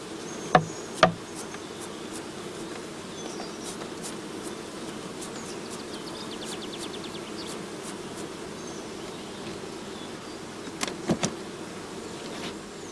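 Honey bees buzzing steadily as they are brushed off comb into a swarm box, a continuous close hum with a few sharp knocks near the start and again near the end.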